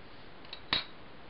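A blade cuts through a soft polymer clay petal with a single sharp snip, preceded by a faint tick, close and brief against quiet background.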